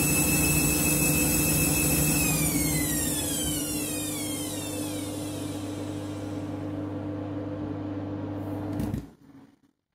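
Washing machine on a rinse cycle with excess suds from a half load, about 2 kilograms washed at 60 degrees with one pod, gives a steady droning hum and whining tones for several seconds before abruptly cutting off near the end.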